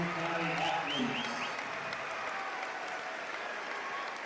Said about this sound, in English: Please give Coach Walls a big round of applause